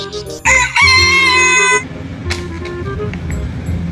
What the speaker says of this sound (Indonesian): Wah, ada mainan ayam jago.